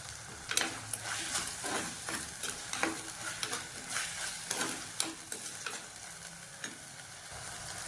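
Chopped vegetables are sautéed in a pan for a quail curry, giving a steady sizzle broken by repeated scraping, stirring strokes of a spoon at an uneven rhythm, close and fairly loud with no talking.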